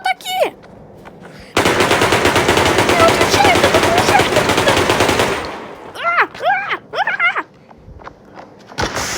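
Sustained rapid automatic gunfire in Melon Playground dominates for several seconds, loud and dense, followed by sharp whooshing and chirpy synthetic effects of game action.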